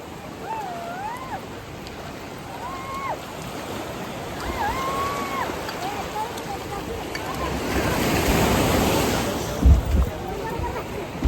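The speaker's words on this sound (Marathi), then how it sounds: "लाट आली लाट आली" Sea waves washing onto the shore at Ganpatipule on the Konkan coast, a steady surf roar that swells louder near the end, with wind buffeting the microphone and boys' voices and shouts over it.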